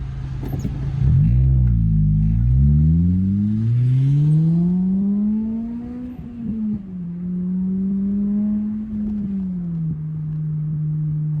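An Acura RSX Type S with an Invidia N1 catback exhaust revs to redline in first gear, a loud close engine note climbing steadily in pitch, then easing off and holding at a steadier drone.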